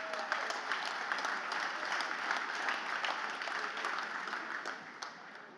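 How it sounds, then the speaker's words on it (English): Steady applause from a seated crowd at an annual youth sports alliance dinner, dense clapping that holds even and fairly loud for several seconds before easing slightly at the end. "give yourself a round of applause"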